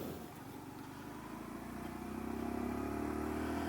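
A Honda Dax 125 motorcycle rolling along low-speed roads, its mid-pitched engine droning steadily close by and building slightly in loudness and pitch toward the end, with no voices.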